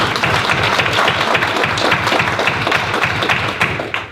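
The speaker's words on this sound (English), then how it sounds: "let's give him a round of applause." An audience at a veterans honor society induction ceremony applauds steadily, a dense even wash of clapping that holds throughout and tapers slightly at the end.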